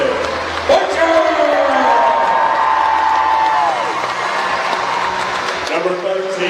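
A packed gym crowd cheers and roars steadily through starting-lineup introductions for the Puxico Indians at a high school boys' sectional basketball game, with a public-address voice booming over the noise.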